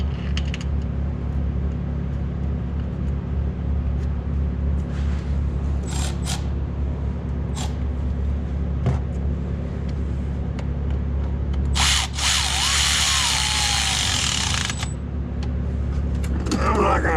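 A power drill drives bolts on an electric golf cart motor, with two short whirring bursts early and a longer, louder run of several seconds near the end, over a constant low hum.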